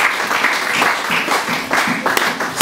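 A church congregation applauding, a dense close patter of many clapping hands running without a break, with voices mixed in under the clapping.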